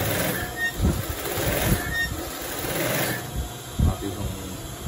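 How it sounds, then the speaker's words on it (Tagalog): A sewing machine stitches a T-shirt with a steady mechanical whir and a faint high whine. Brief thumps break the hum now and then. "So dito na tayo, magtatahi na tayo."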